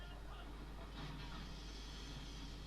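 Train carriages rolling along the track during a fight scene in the action film Derailed, a steady dense rumble and rattle with no clear breaks, sitting under a loud mix.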